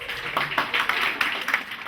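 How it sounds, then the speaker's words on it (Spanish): Audience applause at a theatre troupe's show, a short burst of brisk, fairly close clapping from a modest crowd. "¡Aplausos, por favor!"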